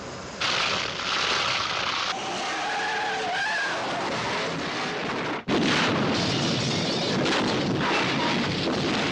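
Cars skid and screech on an oil slick spread by a modified Aston Martin DB5 in the Bond film Goldfinger. Loud, sustained tyre squeals and engine roar fill the scene, broken by one abrupt cut partway through.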